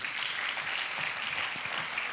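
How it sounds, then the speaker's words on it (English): A church congregation clapping together during a service, a dense, fairly quiet burst of applause lasting a couple of seconds. "We can celebrate them, even in absentia, with a clap."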